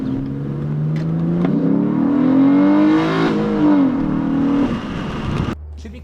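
A Mitsubishi 6G75 V6 with a K&N cold air intake revs up and falls back several times, its engine note rising and dropping close by before cutting off sharply near the end.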